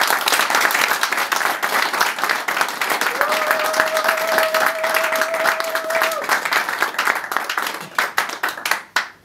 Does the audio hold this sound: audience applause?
yes